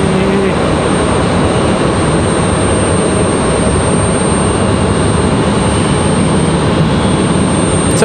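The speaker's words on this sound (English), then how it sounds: "Copa making their way out to the end of the runway" A Copa Airlines jet taxiing toward the runway at stormy Raleigh-Durham International Airport, a steady loud engine roar with a broad hiss, held evenly throughout without clear speech.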